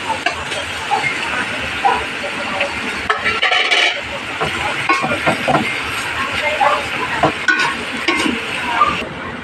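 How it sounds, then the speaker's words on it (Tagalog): Ground pork and sponge gourd (patola) cook in a pan, giving a steady sizzle with scraping and stirring clatter throughout, fairly close and moderately loud. "lutuin na natin yung giniling kasi mabilis lang naman yan maluto"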